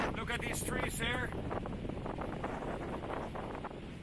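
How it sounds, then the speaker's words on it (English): Strong, gusty wind buffets the microphone outdoors near a small DJI Mavic Mini drone in flight, a steady broadband roar throughout with a faint voice speaking briefly near the start. "I don't know if you can hear the wind, but look at these trees here."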